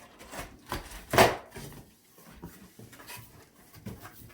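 A blade slices open a cardboard box holding a Home Depot 2020 Halloween jack-in-the-box prop: close scraping cuts with one loud sharp rip in the middle, then quieter rustling and shifting of cardboard.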